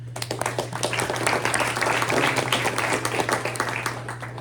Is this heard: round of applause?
yes